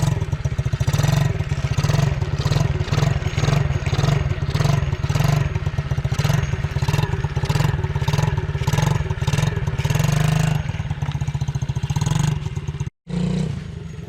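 An SSR 70 pit bike engine runs close and loud, with a buzzy small-engine drone pulsing through repeated revs before dropping out briefly near the end, with no talk.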